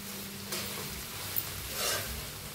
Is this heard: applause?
no